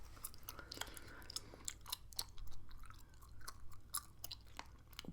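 Gum being chewed close to the mic, with a steady run of wet, smacking chews and small crunchy bites and no talking.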